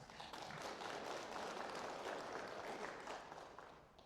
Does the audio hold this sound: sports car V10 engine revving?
no